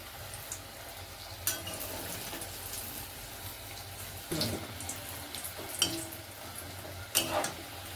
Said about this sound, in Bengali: এগুলো ভালো করে এবার উল্টে পাল্টে ফ্রাই করে নেব